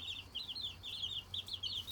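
Hens cluck in a quick, repeated series of short calls, fairly faint and steady, with no talking over them.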